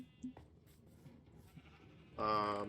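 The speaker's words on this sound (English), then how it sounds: "you can fit a bunch of sheep in here" Sheep bleat in a Minecraft wool farm, a loud harmonic bleat arriving near the end after a stretch of quiet low background noise with a few soft blips.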